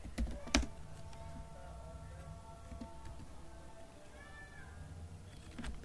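Code is typed on a computer keyboard: quiet, scattered keystroke clicks, with a sharper cluster near the start and another at the end, over a low steady room hum.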